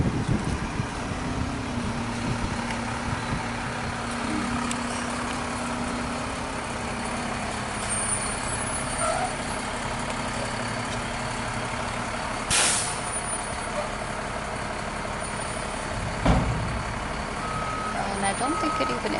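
A truck backs up with its engine rumbling steadily while reversing beeps repeat. A sharp air-brake hiss cuts through partway along, and a second, softer burst comes near the end.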